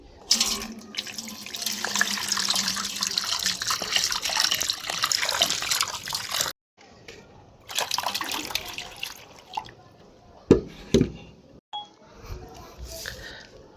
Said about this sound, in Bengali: তাহলে চলুন আমরা এখানে জল দিয়ে দিই